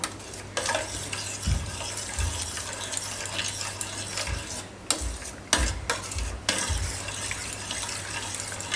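Pasta being stirred in a frying pan, with a steady sizzle and a low hum underneath and repeated scraping, clattering strokes of the utensil at irregular intervals.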